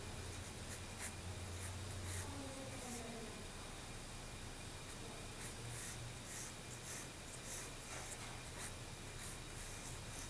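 A pen or marker scratches steadily across paper while drawing a curved moon shape for a Louisville Cardinals logo, soft continuous rubbing strokes close up under faint background hiss, no talking.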